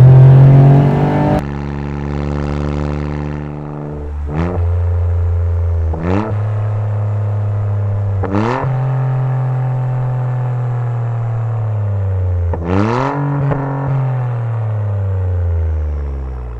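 A Toyota GR Yaris with a titanium exhaust revs repeatedly from a standstill. Several sharp, loud rising blips stand out over a steady, rumbling idle, close and with no talking.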